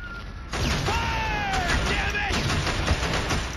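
Gunfire in the video game Killzone during a Helghast assault: a burst of dense, loud shots and impacts starts abruptly and keeps going, with a voice shouting orders over the battle.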